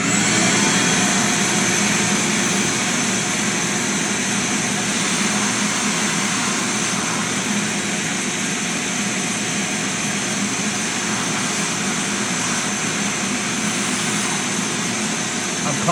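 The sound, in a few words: vacuum cleaning Xbox Elite Series 2 controller thumb stick area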